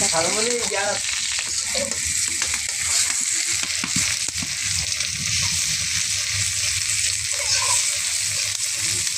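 Spices and gram flour fry in hot oil in a wok for a Bengali chalta pickle, giving a steady, loud, close sizzle with a few soft scrapes and clinks. No one speaks.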